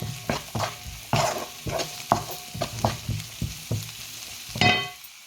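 Onions frying with green chillies and a pinch of salt in a pan, a steady sizzle broken by a string of clattering spoon strokes at a fairly even pace, close and clear with no talking.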